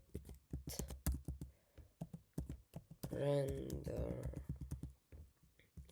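Computer keyboard keys are tapped in quick, irregular bursts while code is typed, close and fairly quiet, with a voice talking briefly in the middle.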